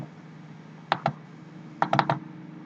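A computer mouse clicks in two quick pairs, sharp and close, first one pair and then a tighter cluster a moment later, over a faint steady room hum.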